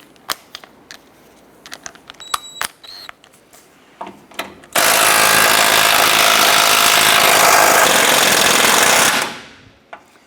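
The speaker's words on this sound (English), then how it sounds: "Let's go ahead and switch over to our impact and see if we can spin that bolt out." Impact wrench spinning out a rusty front lower control arm bolt on a 2008-2012 Honda Accord: a few sharp clicks and knocks, then one loud, sustained burst of rattling hammering for about four seconds that cuts off and dies away.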